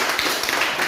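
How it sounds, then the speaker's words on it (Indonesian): Applause in a classroom for a student group that has just finished its presentation, a steady dense patter of clapping lasting about a second with no talk over it. "sekali lagi kita tepuk tangan untuk kelompok 2."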